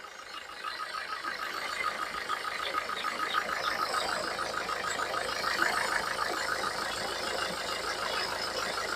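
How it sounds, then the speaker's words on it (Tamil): A Nissan Micra diesel engine idles steadily, a close, even clatter with a rough knocking texture that holds without change throughout. "பாருங்க நிசன் மைக்ரோ இன்ஜின் ரன்னிங்ல இருக்கு"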